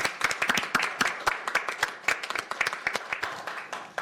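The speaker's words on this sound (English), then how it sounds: "Let's join us in a round of applause." A council meeting audience claps in a round of applause, steady dense clapping that holds through the whole stretch, fairly close and without talk over it.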